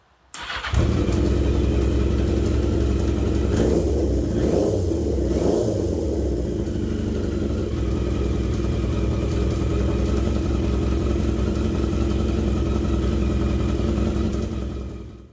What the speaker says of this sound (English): just turned the bike on, just revved it up for the first time in a long time